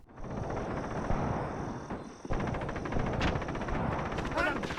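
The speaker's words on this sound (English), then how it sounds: "our mortar squad, which I believe right here, will begin firing" A mortar squad fires in the wartime strategy game Graviteam Mius, with a dense rumbling barrage of distant gunfire and explosions rolling continuously, joined by a high whine near the end.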